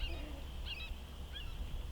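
Hawks circling low over a chicken coop, giving a few thin, high calls, fairly distant over a steady low background rumble.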